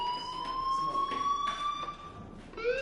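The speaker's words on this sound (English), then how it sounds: "do you hear that fire alarm? That means you should be outside." A fire alarm in the video game Life is Strange sounds a steady rising electronic tone, held for most of the clip, then restarts near the end. It plays at moderate volume over a faint background.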